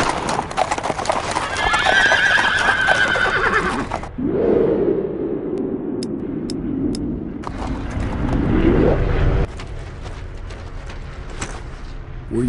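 Horses galloping and neighing on a road in the World War II video game Brothers in Arms: Earned in Blood, with loud whinnies and a rush of hoofbeats coming near, then quieter trailing clatter.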